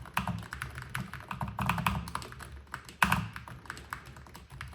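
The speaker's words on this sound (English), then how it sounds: "The K3 HE has magnetic switches with adjustable actuation and rapid trigger, basically total control over every single key press, and it sounds like this." Typing on a Keychron K3 HE keyboard with magnetic switches gives a quick run of close, crisp key taps and clacks, with one sharper strike near the end and no voices.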